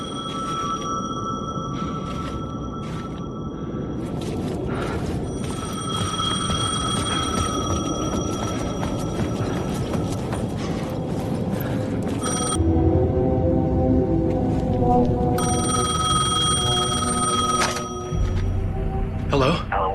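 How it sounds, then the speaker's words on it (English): A payphone rings in the video game Alan Wake 2 with a sustained electronic tone. It cuts in and out in bursts against a dense, steady backdrop, changes character partway through, and ends with a low thud. "The payphone was ringing."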